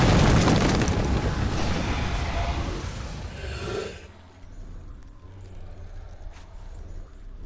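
An earthquake spell in the video game Heroes of Might and Magic V unleashes a loud, deep rumbling boom that rolls on for several seconds before fading into quiet.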